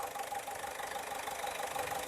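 A Ford car engine idles steadily at a used-car fair, a close, even mechanical hum with a light rapid pulse and no other sounds.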